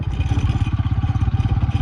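A motorcycle rides along a potholed road, its engine giving a close, low, rapid pulsing throb with some rattle, heard alone.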